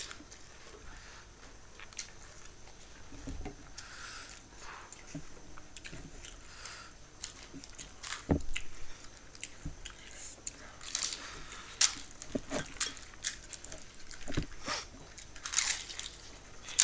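Crunchy fuchka (pani puri) shells bitten and chewed during a spicy pani puri eating challenge, with sharp crunches scattered irregularly across the stretch, some louder and closer, over a faint background.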